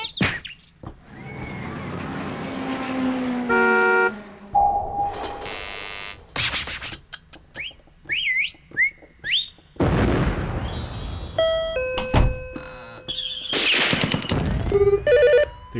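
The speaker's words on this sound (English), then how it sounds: "there is a sound effects set 1 and set 2" Sound effects from a Casio CDP-S350 digital piano play one after another: bursts, ringing phone bells, buzzers, bird chirps, sweeping whistles and beeps, all loud and close with no talking.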